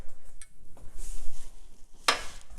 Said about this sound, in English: I'm going to use a silicone spatula here and remove our cookie dough